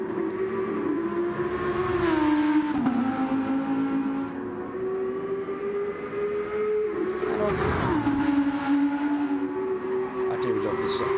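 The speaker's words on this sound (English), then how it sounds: "Hear the concrete working them tyres" Race car at the Nürburgring 24h pre-qualifying running through the S-section, engine droning with shifting pitch as tyres work the concrete, two swells of louder noise, moderately distant and steady.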